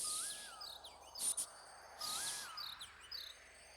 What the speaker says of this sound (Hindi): देवियों को पक्षियों की आवाज आई।